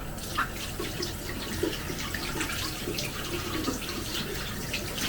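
Hot water runs from a tap in a sink during an evening washing routine. The stream makes a steady, moderately quiet rush with small splashy flickers.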